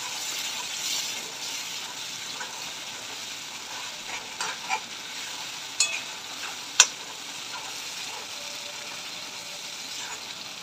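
Tomato puree being stirred into frying masala for a chickpea ras bhaji, a steady sizzle with a few scraping spoon knocks near the middle, moderately quiet and close, with no talking.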